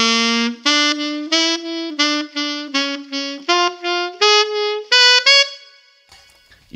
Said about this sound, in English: half-tonguing is when you put your tongue on the reed but not enough to stop it vibrating, and it gives you a more muffled sound